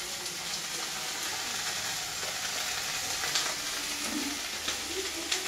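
Panch phoron spices sizzle in hot oil in a pan for charta tarkari, a steady hissing crackle held throughout with a few soft stirring knocks near the end.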